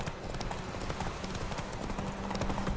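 Horse hooves galloping in the video game The Witcher 3: Wild Hunt, a fast, steady clip-clop rhythm heard close and continuous against a busy game background.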